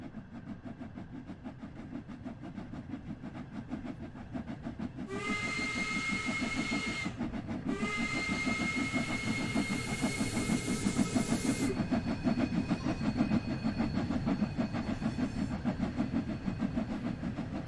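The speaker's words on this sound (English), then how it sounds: "The steam trains are a little bit quiet." Steam locomotive in the Train Sim World 2 game on the Horseshoe Curve route, chuffing rhythmically and rumbling along, with a long sustained whistle blast, a short pause, then a second long whistle blast midway.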